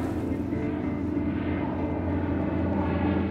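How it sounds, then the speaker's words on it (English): A spotter plane flies overhead near Provincetown on Cape Cod, its propeller engine droning steadily and loudly throughout with no pause. "spotter plane soars over Provincetown in order to catch up with the Cynthia C²"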